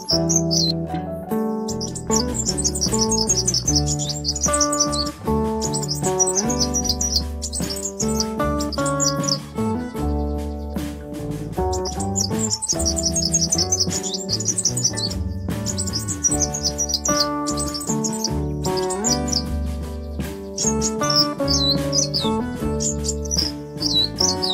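Wild hummingbirds feeding let out rapid high chirps and twittering calls in bursts, loud and close over a dense layer of other sustained tones throughout.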